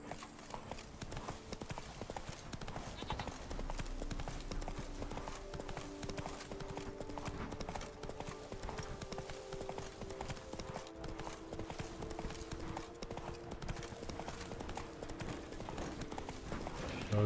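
Roach the horse from The Witcher 3: Wild Hunt, steady rhythmic hoofbeats of a gallop continuing throughout alongside game music, with no talking.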